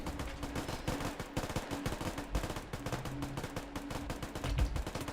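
Gunfire in the war game Foxhole, with dense rapid volleys of shots rattling continuously at moderate distance and occasional heavier thumps.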